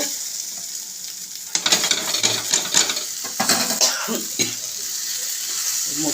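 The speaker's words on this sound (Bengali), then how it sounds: "এটা ঢাকা দিয়ে হালকা একটু কষাতে হবে। ভাজা ভাজা হলো" Spices frying in a pan for a Bengali banana flower and potato curry, a steady sizzle with scraping stir strokes and utensil clinks growing busier midway, close and moderately loud.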